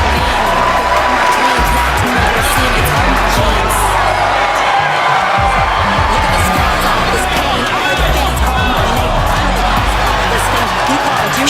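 Arena crowd noise from WWE 2K24 during a TNA Impact entrance, a dense, loud, continuous roar of cheering and whooping that fills the whole stretch with babble mixed in.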